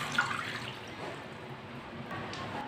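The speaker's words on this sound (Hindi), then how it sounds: "साथ में पानी डाल लेंगे" Water poured into a pot of washed chicken pieces while making chicken roast, a faint, soft splashing and trickling pour that tapers off, heard alone.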